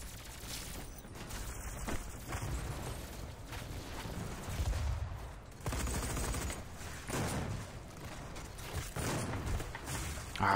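Shotgun blasts and gunfire in the DOOM 4 open beta multiplayer, repeated loud bursts and mechanical clatter over dense game noise, with no talk.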